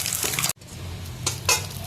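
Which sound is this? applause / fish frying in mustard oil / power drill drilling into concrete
fish frying in mustard oil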